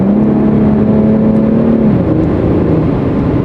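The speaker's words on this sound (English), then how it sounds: "Great sounding exhaust with the IPL tuning that went into it." A 2013 Infiniti G Convertible's IPL-tuned exhaust drones loudly at high revs, a throaty roar that shifts pitch as the engine eases off.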